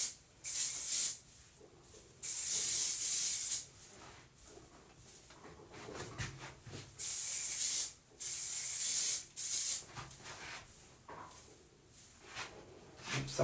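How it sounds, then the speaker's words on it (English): Light hairspray hisses onto hair in several short bursts, some about a second long and others longer, separated by quiet gaps of handling sounds, close to the listener. "just using a light hairspray"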